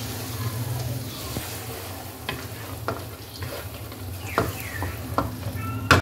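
Chicken and green beans fry in a pot with a continuous hiss of hot oil, broken by occasional scrapes and knocks of a stirring spoon.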